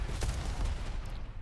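Grenade explosions in the arena shooter Diabotical, a short burst of loud, booming blasts and gunfire packed into about a second and a half.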